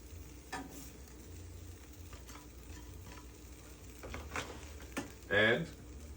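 Ground beef goes into a pan of melted, gooey queso and sizzles faintly, with soft stirring scrapes and one brief, louder burst of crackle near the end, all quiet and close.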